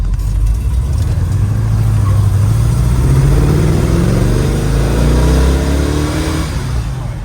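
A 1970 Chevrolet Chevelle SS V8 pulls hard under acceleration, loud and close from inside the car, its deep engine note climbing steadily in pitch through one long continuous run.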